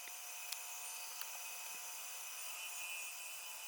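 A bandsaw cuts a pallet-wood parrot template in a steady, faint, hissing rasp, with a couple of brief ticks and no voices.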